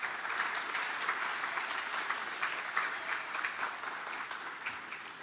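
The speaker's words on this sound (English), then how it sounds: "let's also give them a round of applause" Steady applause from a graduation ceremony crowd honoring the camp chaperones, a dense, even wash of many hands clapping that holds for several seconds without a break.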